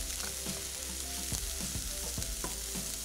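Onion, ginger and garlic paste fry together in a pan, a steady loud sizzle with clinks and scrapes of stirring at regular intervals, no voices.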